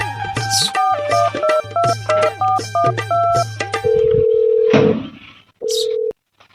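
A phone call being dialed: a quick run of electronic keypad tones in rhythmic beeps, then a long steady tone and a shorter final one, close and clear.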